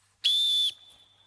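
A coach's whistle gives one loud, piercing blast of about half a second, steady and shrill, cutting off abruptly into a faint ringing tail.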